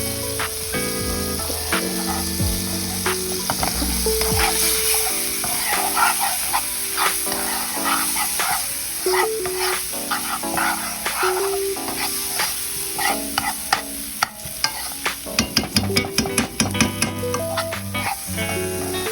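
Butter melts and sizzles steadily in a pan while gravy is being browned, with a close, continuous frying crackle broken by clinks and scrapes of a utensil stirring, growing busier toward the end.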